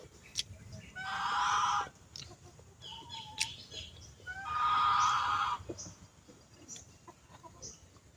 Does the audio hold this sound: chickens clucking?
yes